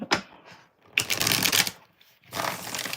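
Tarot cards are shuffled in three quick riffling bursts, crisp and close, separated by short pauses.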